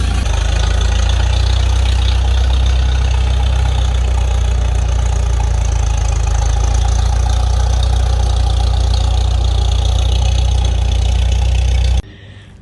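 An engine idles steadily with a deep, throaty bass rumble, loud and close, holding a constant low drone for about twelve seconds before cutting off abruptly.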